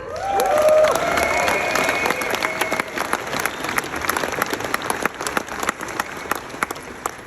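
Audience applause at a company business gathering, loud and dense clapping with some cheering, sustained throughout and tapering slightly toward the end.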